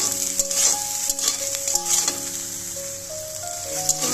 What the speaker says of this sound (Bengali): কড়াইতে আমি সয়াবিনটা ভাজা করব